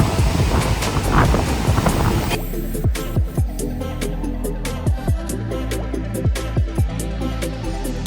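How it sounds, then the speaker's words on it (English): Sea waves and a steady breeze on a beach in Veraval or Dwarka on the Gujarat coast, a broad wash of wind and surf with a louder surge early on, then rhythmic breaking swells recurring every second or so. "you enjoy the breeze and waves"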